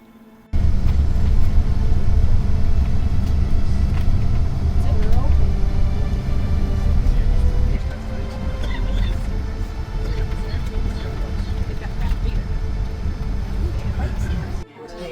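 Car interior on a short drive to Indian Fields Tavern in Virginia, with steady loud low-frequency road and engine rumble throughout and faint talking in the background.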